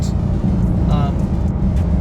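A 2024 Porsche 911 Carrera T in slate gray, nearly new and driven gently, gives a steady low engine rumble from inside the car, with a short tonal rise in the middle.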